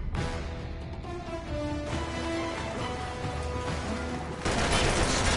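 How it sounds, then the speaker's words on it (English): Uncharted 3 gunfire and a grenade blast in steady bursts of rattling shots and booms at moderate loudness, ending in a louder, denser burst of noise. "Pull the grenade, man."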